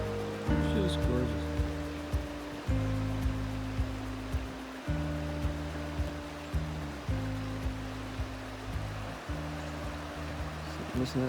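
Broadband rushing water of a river along a valley pathway, steady and fairly loud throughout, with low-frequency rumble, likely wind or footsteps, pulsing irregularly underneath.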